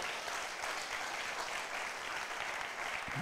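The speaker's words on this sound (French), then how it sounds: "Acclame pour le Seigneur." A church congregation claps together in sustained, steady applause, moderately loud and even throughout, with no talk over it.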